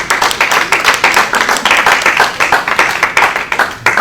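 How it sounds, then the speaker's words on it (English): A small group at a community meeting claps for a few seconds, giving loud, close applause with a slightly uneven, pulsing rhythm. "I think the community deserves you a big round of applause."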